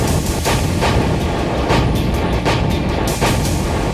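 Indian Army T-90 Bhishma main battle tank firing on a battlefield, a loud, continuous barrage of booming artillery-like blasts repeating in quick succession over heavy rumbling noise.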